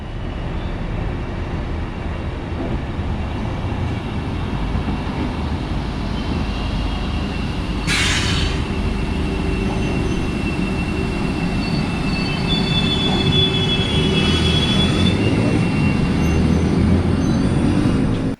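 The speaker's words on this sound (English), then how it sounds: "here we can see our train of today arriving" An old X11 regional passenger train rumbles steadily as it pulls into a terminus station, with a brief hiss of air and thin wheel squeals rising over the continuous rolling noise.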